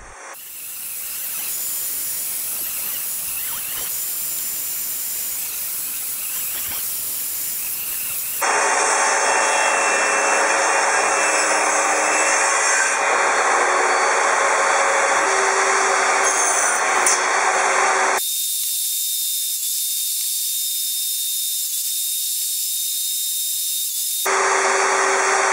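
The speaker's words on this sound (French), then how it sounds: "Puis j'ai déligné et tronçonné les morceaux destinés à devenir les traverses en haut et en bas des barreaux." Wood pieces for a crib's top and bottom crossbars are ripped and crosscut on a power saw, a loud, continuous high whine and hiss that shifts pitch as cuts start, then drops briefly before resuming.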